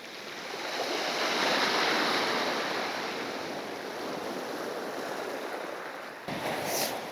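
Sea surf rolling onto the shore at Bonchurch on the back of the Isle of Wight, a broad continuous roar that swells and slowly eases, loud and close with wind buffeting, no voices.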